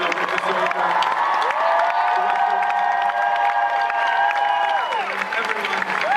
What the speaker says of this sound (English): A huge round of applause for Captain America, Winter Soldier.